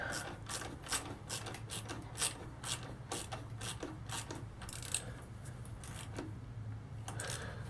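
A ratchet wrench snugs the battery hold-down bolt on a Harley-Davidson XLH Sportster, giving a steady run of crisp, close clicks in short rhythmic bursts with brief pauses, and no talking.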